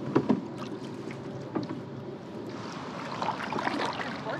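Soft rhythmic paddle strokes from a Swift canoe on a lake: gentle splashes and drips repeating at an easy pace, close and fairly quiet over faint water and outdoor ambience.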